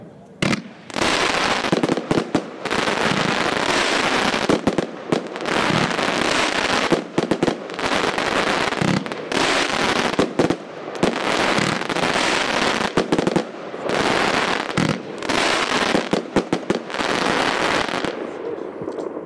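Xplode Double Deck Purple consumer firework battery, 36 shots of 25 mm calibre, fired at a pyro show: rapid loud bursts of bangs and crackling in several dense volleys with brief gaps, close and dominating throughout.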